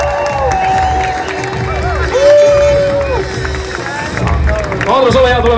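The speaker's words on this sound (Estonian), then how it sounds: "teeme suure aplausi" A crowd cheers and applauds for the Estonian police at the opening of WRC Rally Estonia 2025, loud and continuous, with an announcer talking over it and a sustained tone running through the noise.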